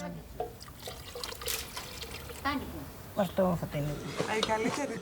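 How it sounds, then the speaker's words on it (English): Water trickles and pours into a rifiki cooking pot of rice being stirred, a soft liquid splashing heard under close conversation. "Shall I add water?"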